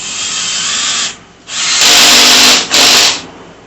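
Power drill driving screws into a rolling laptop tray during assembly, close and loud, with three bursts of whirring separated by brief pauses.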